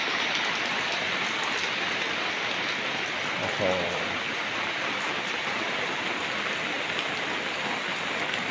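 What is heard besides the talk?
rain falling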